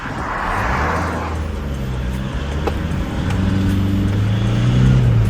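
A Peugeot HDi 90 diesel car driving, with a steady engine drone and road rumble. The engine rises slightly in pitch toward the end, heard from inside the car without talk.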